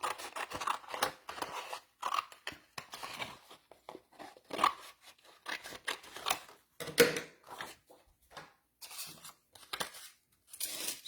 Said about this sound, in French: Je vais découper un petit morceau.